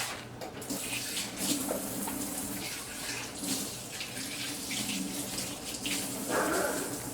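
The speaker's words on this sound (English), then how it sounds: "You washing your hands?" Hands washed under a running kitchen tap while gumbo cooks, a steady close stream of water with small shifts in splash as the hands move, heard alone without talk.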